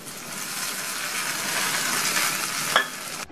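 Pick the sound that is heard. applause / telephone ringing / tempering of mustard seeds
tempering of mustard seeds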